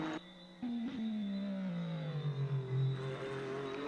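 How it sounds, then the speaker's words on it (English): Race car in a Le Mans racing video game approaching, its engine note rising and sliding downward in pitch as it nears, a steady loud drone with no talk. "You can hear that car in the background as it's approaching."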